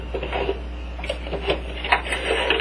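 A sewing machine stitching a pillowcase seam, reversing to lock the stitch, gives a soft, steady mechanical whir with light rhythmic ticking over a low constant hum, fairly quiet and close.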